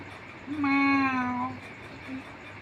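A voices a drawn-out imitation of a cat's meow, one clear rising-falling call lasting about a second, fairly close, followed by a short faint vocal sound.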